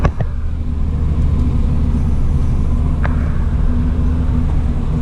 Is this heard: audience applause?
no